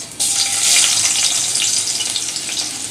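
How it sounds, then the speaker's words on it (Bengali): A small chopped onion hits hot oil in a pan for a Bengali kochur loti recipe, bursting into a loud, close, steady sizzle that crackles on without pause. "আমি প্রথমে পরিমাণ মতো তেল গরম করে নিয়েছি দিয়ে দিচ্ছি একটা ছোটো সাইজের পেঁয়াজ"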